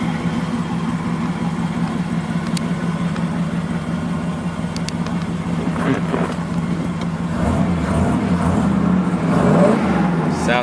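1967 Pontiac Firebird convertible with its matching 326 V8 and automatic transmission running at a steady idle, close and loud, with faint voices in the background and a slight rise in revs near the end.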